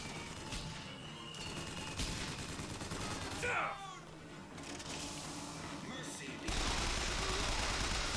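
Gunfire and crashing impacts from the video game Bioshock Infinite in a bank setting, bursts of shots and clatter running continuously at moderate level, with a louder stretch near the end.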